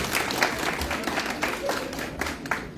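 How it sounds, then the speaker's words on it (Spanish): A church congregation claps warmly for a woman, a dense burst of applause sustained throughout, with a few voices murmuring under it. "Un aplauso por esta señora."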